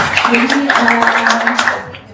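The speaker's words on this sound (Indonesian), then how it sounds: "Tepuk tangan" An audience at a small-business finance session claps along, a brisk run of overlapping hand claps under a steady hum and voices.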